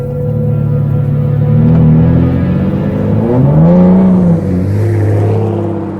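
An Aston Martin DBS V12 engine in sport mode revs up and settles back down, loud and close, with a deep rising roar followed by a steady idle.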